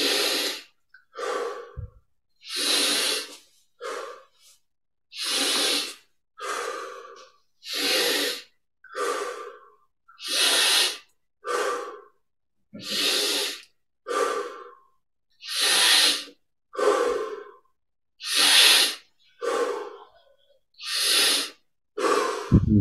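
Slow, deep breathing during yoga practice, around sixteen full, audible inhales and exhales in a steady rhythm, close and clear with quiet pauses between them and no talk.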